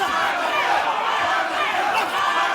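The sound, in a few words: Kazakh boxing fans chanting for Janibek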